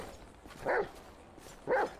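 A police Rottweiler in GTA 5 with the LSPDFR police mod gives two loud, close barks about a second apart, each short and sharp over a low game background.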